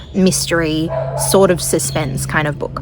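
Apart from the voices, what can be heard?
dogs barking outdoors in the background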